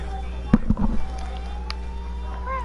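Gunfire in GTA 5, a sharp loud crack followed by a short cluster of quicker pops, with engine hum and faint siren-like tones underneath.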